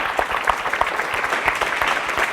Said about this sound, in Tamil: அத்துணை ஆசிரியர்களுக்கும் ஒரு நல்ல கைத்தட்டல் கொடுத்துடலாமா?